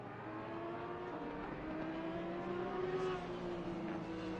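Porsche race car engine at Laguna Seca in a racing game, a steady droning whine that climbs gently in pitch and holds, moderately loud and continuous without a break.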